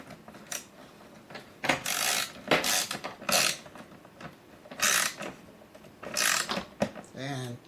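A ratcheting wrench from an AliExpress set tightens a bolt, producing repeated bursts of quick rapid clicking up close, separated by short pauses, with a person speaking faintly at times.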